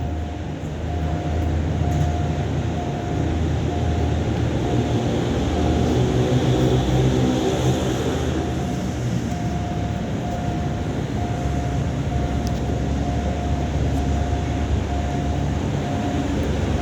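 A train locomotive rumbles into Don Mueang railway station loudly and steadily, with a sustained low drone and a long tonal hum over several seconds of heavy rail noise.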